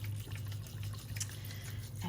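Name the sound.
distilled water poured into a lavender still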